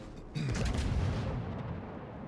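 Battleship main guns firing in the World of Warships video game: a single heavy booming salvo bursts in suddenly and rumbles on with a long, loud low-end roar as it decays.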